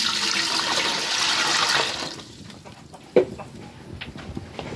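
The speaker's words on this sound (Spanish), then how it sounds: "Le voy a echar agua." Water pours from a container into a cooking pot for Mexican pumpkin atole: a brief rushing splash for about two seconds, then quieter kitchen ambience with one sharp knock of the pot.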